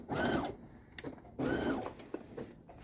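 Sewing machine stitching a garment seam on a costume, two close bursts of rapid mechanical whirring, each about half a second long, separated by brief pauses with small clicks.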